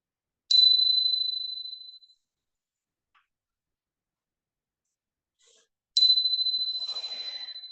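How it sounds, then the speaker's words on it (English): Two clear bell strikes, several seconds apart, end a yoga relaxation. Each rings out bright and pure, then fades slowly into near silence. "as you hear the sound of the bells, you'll call to gently reawaken"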